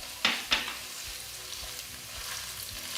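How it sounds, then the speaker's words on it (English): Minced meat goes into a hot oiled wok with garlic for mapo tofu, bringing two sharp scraping hits of the spatula at the start, then a low, steady sizzle. "Then add the minced meat."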